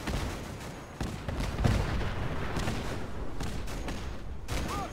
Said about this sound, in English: Oh, it's the flying bombs again.